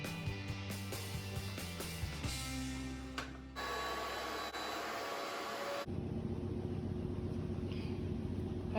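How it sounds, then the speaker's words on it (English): A washer and dryer run in the background as a steady, fairly faint mechanical hum and whir that shifts in character partway through, with no voices over it. "the dryer washer going in the back"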